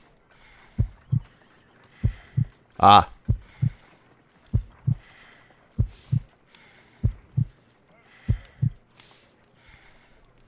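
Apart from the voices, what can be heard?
heartbeat from video game Sherlock Holmes: Crimes & Punishments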